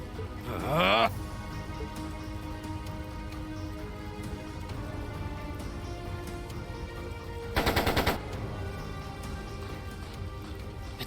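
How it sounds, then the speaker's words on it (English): Two short bursts of machine gun fire ring out in the Trails of Cold Steel II game, one near the start and a louder one later, over a steady background of ambient game noise and music. "It sounded like a machine gun."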